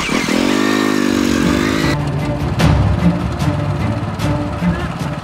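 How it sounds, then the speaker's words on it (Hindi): A motorcycle engine revs and pulls away close by, a steady mid-pitched drone rising in pitch before the sound turns to rougher road noise, with brief voices in the background. "अपन मोटरसाइकिल तो मिल गया अपना ठीक है चलो"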